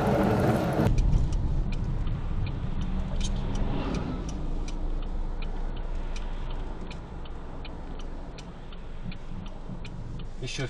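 A car moves along city streets around Khabarovsk during a driving lesson, its steady engine and road rumble continuing throughout, with soft ticking from an indicator and faint voices from inside the cabin.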